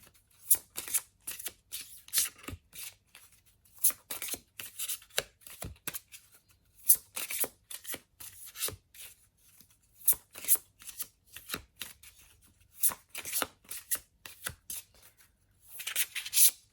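A deck of tarot-style cards shuffled by hand for a reading, bursts of crisp riffling and flicking in irregular clusters separated by short pauses, close and without talk.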